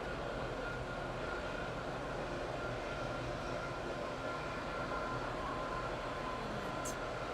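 A Class 170 diesel train on an SCR Connect service from Willowfield to Berrily in the video game SCR runs steadily, a continuous low rumble and drone at moderate level without pauses.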